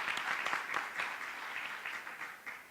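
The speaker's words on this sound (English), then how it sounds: "Let's give him a round of applause for that." An audience at a Charlotte-Mecklenburg Schools meeting breaks into sustained applause, many hands clapping steadily at moderate loudness for the whole stretch, with no talk over it.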